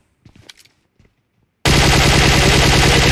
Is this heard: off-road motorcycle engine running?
no